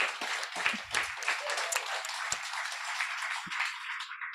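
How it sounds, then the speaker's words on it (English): Graduation audience applauding across the room, a steady wash of many hands clapping with a few sharper near claps, continuing evenly and fairly faint for a few seconds. "I just want to give a round of applause for everyone for keeping it together"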